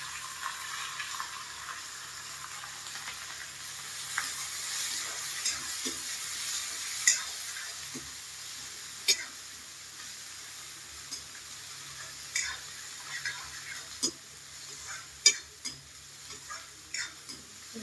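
Onions, green chili and coriander sauté in a pan, with a soft continuous sizzle and occasional spoon taps and scrapes at irregular intervals, moderately close, with no talking.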